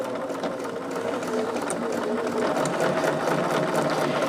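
A Bernina sewing machine runs steadily, a close, continuous whirring hum with a rapid needle rhythm that grows slightly louder partway through.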